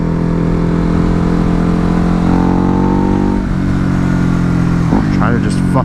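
Ducati Hypermotard motorcycle engine being ridden, a loud, close droning hum with a steady pitch that climbs slightly and then drops, as if revving and easing off, with no voices.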